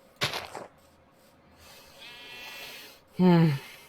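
Minecraft sheep bleating in the video game, two short loud bleats, one at the start and a sharper one near the end, with quiet background between.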